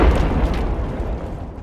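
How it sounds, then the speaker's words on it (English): A Russian BMP infantry fighting vehicle struck by an FPV drone explodes in a loud, close, rumbling boom that fills the low end and decays slowly. "A massive explosion followed."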